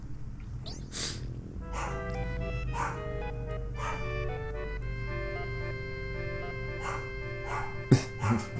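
A dog barks and yips a few times in the Final Fantasy 7 video game, soft bursts scattered over background game music and ambience, with a sharper sound near the end.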